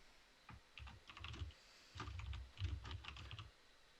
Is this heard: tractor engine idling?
no